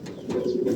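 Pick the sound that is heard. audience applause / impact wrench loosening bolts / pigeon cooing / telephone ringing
pigeon cooing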